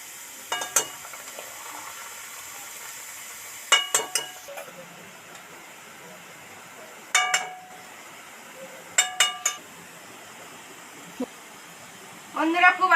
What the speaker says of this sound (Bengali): এবার কড়া তেল গরম হয়ে গেছে, কড়ার মধ্যে ছেড়ে দেব।